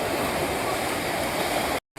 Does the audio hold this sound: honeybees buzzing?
no